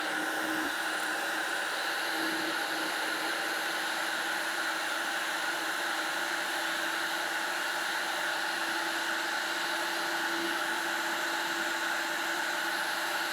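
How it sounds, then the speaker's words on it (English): A heat gun blows continuously, a steady even hiss-like roar at close range while shrinking a splice connector during automotive wiring repair, with no talk over it. "Let's try one of these with the heat gun now."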